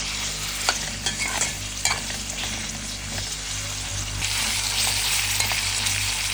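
A couple of pieces of meat sear in a pot meant for okra, producing a loud, continuous close sizzle with scattered spits and pops. The hiss swells stronger toward the end.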